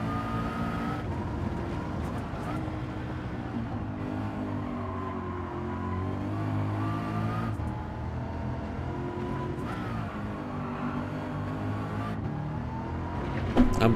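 A race car engine in Gran Turismo 7 drones and revs through a licence test, pitch climbing and dropping with gear shifts, steady and moderately loud with no talking.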